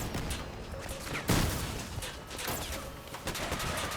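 Vehicle-mounted guns fire in the Crossout combat game, a rapid, continuous rattle of shots with a heavier blast about a third of the way in. The gunfire sits fairly close and loud and fills the whole stretch.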